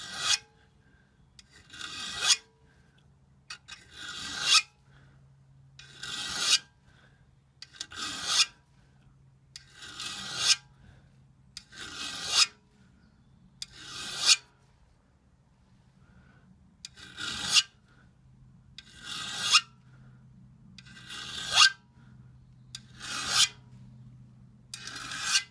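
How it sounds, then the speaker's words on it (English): A flat file rasps across the front edge of a steel ice axe in about a dozen even, rhythmic strokes, each a close, gritty scrape followed by a short pause, with a faint low hum beneath. "So we get the flat file, and we're just trying to recreate that kind of beveled edge at the front"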